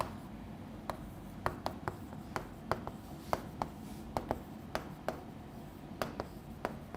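Pen on paper while chemical isomer structures are drawn, with sharp, irregular taps and short scratchy strokes spaced through a quiet room and no talking.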